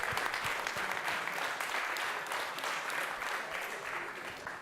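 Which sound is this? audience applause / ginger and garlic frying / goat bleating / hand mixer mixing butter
audience applause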